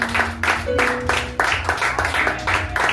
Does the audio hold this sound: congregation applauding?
yes